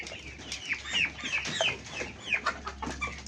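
Roosters clucking inside a coop alongside ducks, with a run of short, close, overlapping clucks and squawks in an uneven rhythm over a faint background hum, and no voices.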